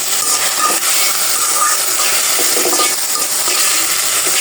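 Bottle gourd greens frying in hot oil with two dried chillies, a steady close hiss and crackle running unbroken throughout with faint stirring scrapes.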